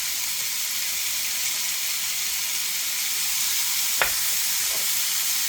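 A steak sizzles in hot oil on a griddle with a steady, loud hiss throughout, broken by one sharp crackle near the end and no voices.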